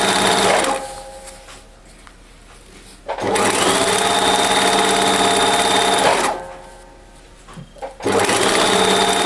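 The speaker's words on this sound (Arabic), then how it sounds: "وانا كنخيط في نفس الوقت" A domestic sewing machine stitches a homemade fabric face mask in three loud, fast-whirring runs, separated by short pauses with faint handling sounds.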